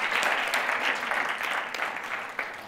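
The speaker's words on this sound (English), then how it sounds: "a round of applause for everybody" Steady applause from an audience at the finale of a My Thesis in 180 Seconds university competition fills the hall, a dense wash of many hands clapping continuously at moderate level throughout.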